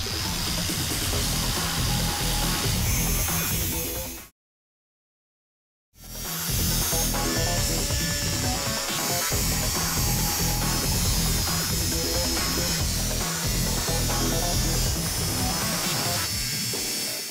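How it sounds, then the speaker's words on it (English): A cutoff disc grinds through a steel body panel on a 1973 Buick Century, a loud, continuous, harsh shriek up close that cuts out for about a second and a half before starting again. "After I get the straight cuts with a disc, I'll hit the corners with the air saw, then finish it all off with the air chisel."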